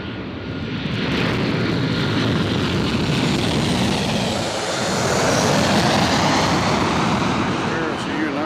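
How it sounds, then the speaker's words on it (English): A United airliner inbound from Chicago O'Hare, on approach to Nashville International Airport, gives a loud, steady broadband jet roar that holds through the whole stretch and swells slightly near the end. "There's United coming in from O'Hare"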